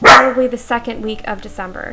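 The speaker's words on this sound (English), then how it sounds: "That was my dog." A pet dog gives a loud, sharp bark right at the start, followed by someone talking over faint background noise.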